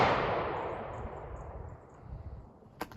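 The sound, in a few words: gunshots from neighbor's target practice in the countryside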